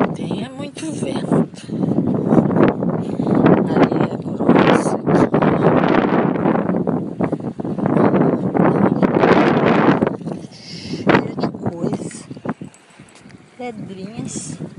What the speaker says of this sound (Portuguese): Tem é muito vento.